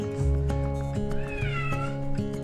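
A cat meows several times in close succession, the calls loud and near, with drawn-out, wavering tones and no talking.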